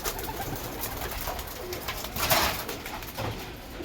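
Bhopal pigeons coo softly while pecking at feed mixed with a probiotic, a steady low murmur of cooing running throughout with a slightly louder burst partway through.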